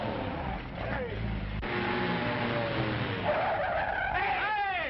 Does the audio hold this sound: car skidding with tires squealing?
yes